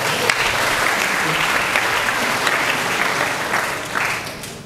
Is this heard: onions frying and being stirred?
no